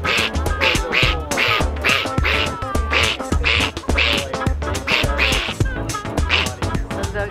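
A human voice imitates a mallard duck, producing a loud, rhythmic run of nasal quacks repeated steadily for several seconds, close to the microphone with no other talk.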